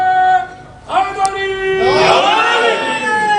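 Gathering at a devotional poetry celebration in Multan calling out a religious slogan, with a single strong voice leading and a mass of voices answering in a loud, sustained shout.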